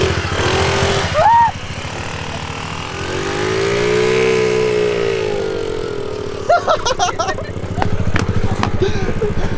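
Small moped engine running rough and uneven while a dirt bike riding lesson goes on, its sputtering drone rising and falling close by, with brief bursts of people talking over it.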